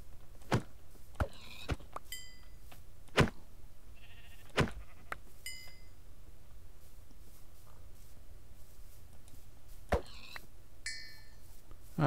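Sheep bleating in a Minecraft-style video game, a few brief bleats scattered among sharp clicks and tapping sounds over a faint background hum.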